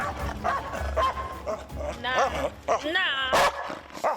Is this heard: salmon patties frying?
no